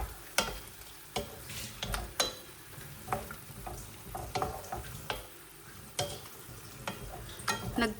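Pancit bihon rice noodles seasoned with salt and pepper are stirred in a frying pan, giving soft, irregular scrapes and clacks over a faint sizzle at low volume, with no voices.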